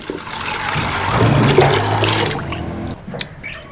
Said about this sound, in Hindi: अब इसमें पानी डाल देते हैं। ये एक जग मैं इसमें पानी का डालता हूँ।